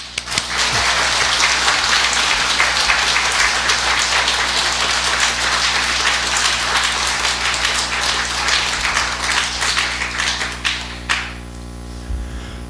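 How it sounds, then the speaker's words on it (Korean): A church congregation gives warm, sustained applause to welcome a missionary at a mission Sunday service, a dense, steady roar of many hands that fades out near the end. "우리 최은하 선교사님 나올 때 뜨거운 박수와 격려로 맞이하면서"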